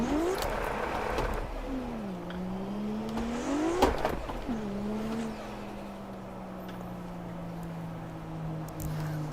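A 500HP Lexus GS300 in the Assetto Corsa racing game drones loudly, its engine note rising and falling through revs and gear changes before settling into a steady cruise.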